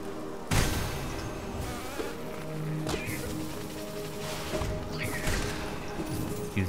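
Swarming bees in the video game Hollow Knight buzz continuously under game music, with sharp hit and impact sounds cutting in during combat.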